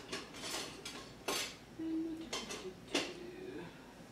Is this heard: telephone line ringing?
no